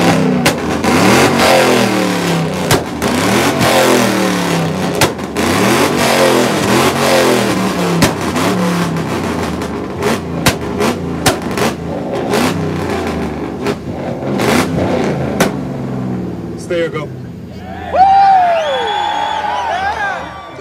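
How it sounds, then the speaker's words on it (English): A car engine revs repeatedly in loud rhythmic bursts at an exhaust competition during a car meet, with crowd noise and whoops around it and a shout near the end. "supposed to rev up here"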